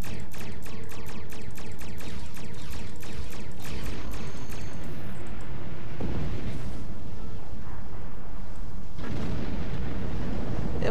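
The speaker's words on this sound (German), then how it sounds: "Es explodiert auch schon." Loud booming blasts and rumbling crashes from a Star Trek Online space battle against Klingons, a rapid volley of bangs at first, then heavy explosions rolling in over a continuous roar.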